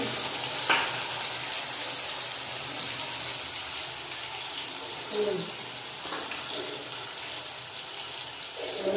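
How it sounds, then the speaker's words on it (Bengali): A paste of ginger, garlic, onion and green chilli fries in hot oil, giving a steady close sizzle throughout, with occasional scrapes of a spoon stirring it. "একসঙ্গে সব কিছু দিয়ে কষাবো।"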